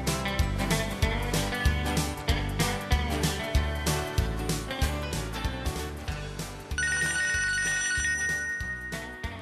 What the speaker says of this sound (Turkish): Bak da telefonum çalar.